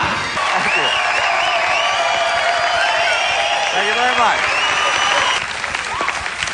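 A live studio audience at a late-night comedy show breaks into loud, sustained applause with some cheering, while someone speaks briefly over it and the clapping thins out near the end.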